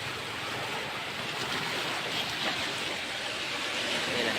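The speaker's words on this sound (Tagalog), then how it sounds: "Yan ang dagat." Sea waves wash in a continuous, moderately loud surf roar with light wind across the microphone and no clear breaks between swells.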